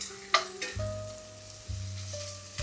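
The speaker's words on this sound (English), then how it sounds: "in a hot pan with no oil, line your meat in" Pork hitting a hot, dry pan without oil and sizzling, a sharp sizzle starting up and swelling in two close bursts, fairly quiet and near with no talking.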